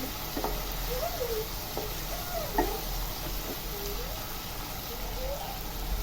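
Oil bubbling in a pan in a village kitchen, with green chillies and other ingredients in it: a soft, steady sizzle with a few light clinks, fairly quiet.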